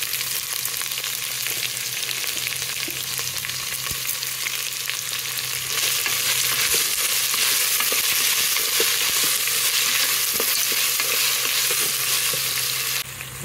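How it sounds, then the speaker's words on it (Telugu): Onions sizzle in hot oil in a pan for bagara rice, a steady, loud frying hiss throughout with faint stirring scrapes and no talking. "ఉల్లిపాయ వేగిపోయిందండి. ఇప్పుడు ఇందులో ఉప్పు కూడా వేసేసుకోవాలి."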